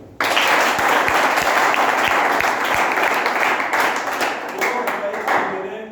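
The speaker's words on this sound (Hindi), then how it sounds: "कंपनी के लिए एक बार जोरदार ताली बजाओ" Loud crowd applause at a company business plan presentation bursts in and holds steady for several seconds, dense clapping from many hands that tapers slightly toward the end.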